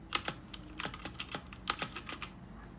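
Typing on a Drevo Tyrfing V2 mechanical keyboard with red switches: a dozen or so sharp, close key clacks land in an uneven rhythm with short pauses, with no voices.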